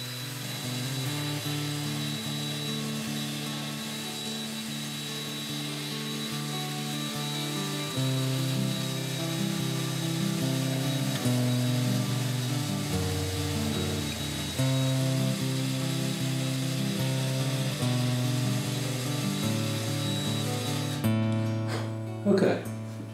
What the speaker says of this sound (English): So I'm just going to use a little sander.